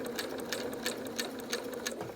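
A sewing machine stitches a fabric face mask, running at a steady, even rapid rhythm throughout, close and continuous with no talking.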